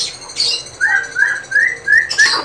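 Birds chirp close by in a quick series of repeated whistled notes, with a few sharper calls mixed in and no talking.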